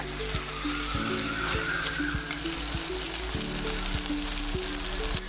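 Grated coconut frying in oil for a prawn roast, a loud, dense, continuous sizzle up close, with a few faint taps of a spoon against the pan.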